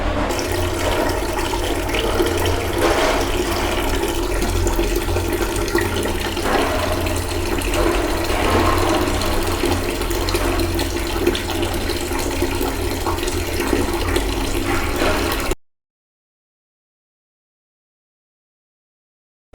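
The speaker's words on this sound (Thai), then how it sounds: "เดี๋ยวเราจะเปิดน้ำก่อนนะครับ เปิดน้ำไว้ก่อนนะครับ" Tap water running steadily into a container during an overflow alarm test, a continuous close splashing rush that stops abruptly near the end, leaving silence.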